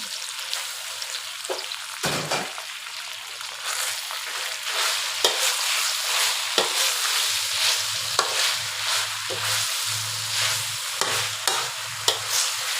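Pork stir-fried with plenty of holy basil leaves, a continuous bright sizzle broken by frequent scraping and tossing strokes of a spatula in the pan, close and steady.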